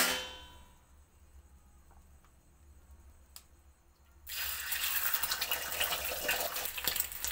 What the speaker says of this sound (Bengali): তেলের মধ্যে দিয়ে দেবো একটা ডিমকে ফাটিয়ে নিয়ে।